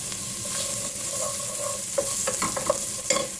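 Onions frying in a pan for a flat coco bean and corned beef dish, a constant close sizzle broken by several sharp utensil scrapes and clinks of stirring toward the end.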